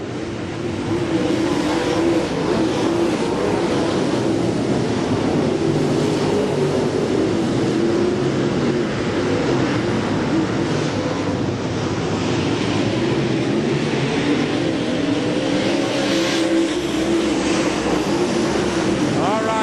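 Race cars roar around a track in a continuous, loud engine drone that holds steady throughout, with a commentator talking over it.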